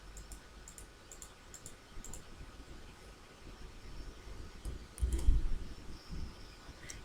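A computer mouse button is pressed five times in quick succession while adding slides in PowerPoint, giving faint, crisp clicks over a low hum.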